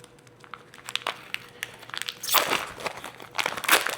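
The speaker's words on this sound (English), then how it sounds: "I do want to cut some of this andouille" A knife slicing through andouille sausage on a cutting board in a home kitchen, giving soft crunchy cuts, sparse at first and then a denser run of close, moderately loud slicing strokes.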